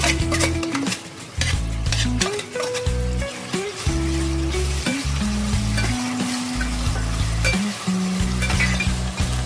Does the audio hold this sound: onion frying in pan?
yes